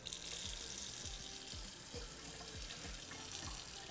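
Water running from a tap in a kitchen, a steady rushing stream with a regular splashing, dripping pattern underneath, fairly faint and alone.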